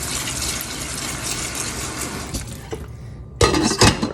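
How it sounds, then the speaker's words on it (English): Tap water gushes steadily into a pot of rinsed, cooked carrots, briefly easing off before a louder splashing surge near the end. "Fill it back up with cool water."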